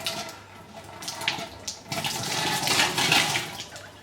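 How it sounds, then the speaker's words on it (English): Water pours and drains down a sink in a steady rushing wash that swells louder toward the end, heard alone with no voices. "all of the water has fallen down the sink"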